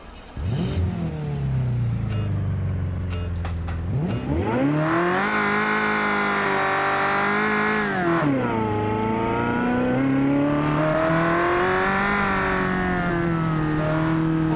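A V8 4.4 rally car engine in a street rally video game cranks and catches partway through, then revs hard through several rising and falling sweeps, loud and close throughout.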